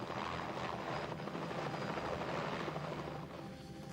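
A helicopter flies over the ice floes of the Gulf of St. Lawrence, its steady rotor and engine roar filling the scene loudly and continuously before easing slightly at the end.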